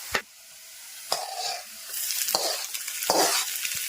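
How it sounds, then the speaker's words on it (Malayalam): Mustard seeds spluttering and popping in hot oil for a coconut chutney, with sharp crackles and a steady sizzle, a few stirring knocks in the pan, close and moderately loud, no voices. "അപ്പൊ നമ്മുടെ കടുക് പൊട്ടിച്ച് നന്നായിട്ട് മൂത്തിട്ടുണ്ട്."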